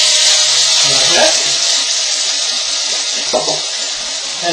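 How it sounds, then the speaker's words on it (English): Water is poured into a hot pan of Chinese dumplings and hisses and sizzles in a steady, close rush. A couple of brief clinks sound partway through. "So we can pour a little bit of water in there"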